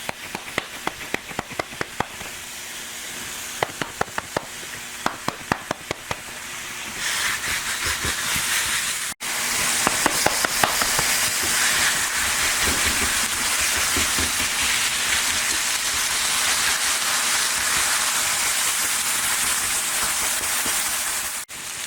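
Herbed turkey burger patties sizzle on a grill, starting with crackling pops and rising into a loud, steady hiss that continues unbroken.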